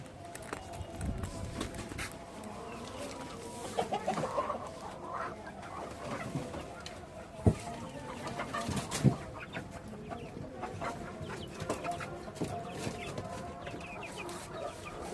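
Chickens cluck softly and intermittently on an open building rooftop, with scattered bird calls, faint voices and a few sharp knocks.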